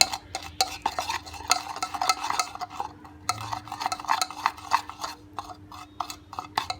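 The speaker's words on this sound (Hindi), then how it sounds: "तो मैं इसको मिक्स करके दिखाती हूँ। इसको आप अच्छी तरह मिक्स करेंगे।" A homemade lip mixture being stirred in a bowl, with rapid, continuous scraping and clinking of a utensil against the bowl, close up and fairly busy in rhythm.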